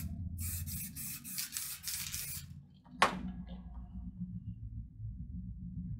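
Short hissing bursts of an airbrush spraying a coat of white water-based paint, several quick pulses in a row, then a brief sharp blast, with low room hum throughout.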